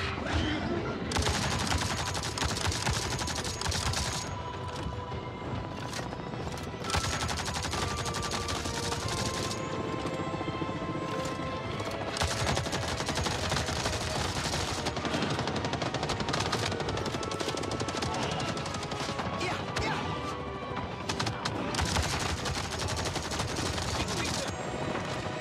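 Rapid automatic gunfire rattles in long, loud bursts with short pauses in between, fired while flying in the video game Avatar: Frontiers of Pandora, over a constant background of game sound.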